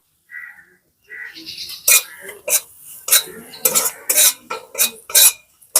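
A metal spoon scrapes and clinks against a pan while samosa potato filling spices with turmeric are stirred, sharp irregular knocks growing busier after a brief quiet start, close and clear with no talk.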